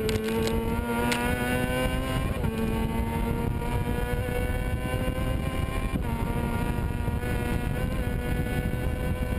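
Racing sidecar outfits at the Isle of Man TT scream past with loud, high-revving engine whine that shifts pitch as the machines speed by, steady and continuous.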